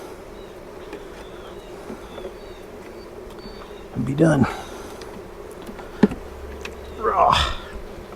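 Honey bees shaken off brood frames during a Demaree hive split, two loud swelling bursts of buzzing rising over a low background hum, with a sharp knock between them and a person speaking briefly.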